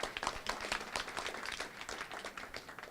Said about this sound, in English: give yourself a big round of applause for being here this morning